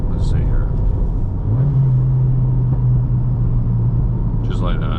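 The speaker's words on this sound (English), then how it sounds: "Push the clutch in, blip the throttle, and then you're gonna go down a gear with the gear shifter and then come out with the clutch" A Subaru WRX with a manual gearbox rumbles steadily at low pitch, then its engine note rises and holds higher after a throttle blip for a rev-matched downshift. A voice speaks briefly at the start and again near the end.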